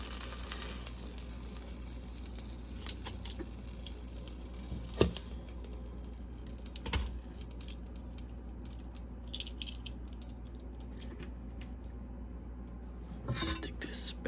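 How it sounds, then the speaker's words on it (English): Air-fried hot links give off a faint, steady sizzle and hiss with scattered small pops and crackles, heard close but quietly. "Look at that. All that sizzle."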